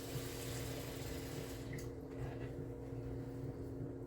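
Water runs steadily into the reservoir of a baby food maker's steamer, a quiet continuous pour at close range with no talking over it.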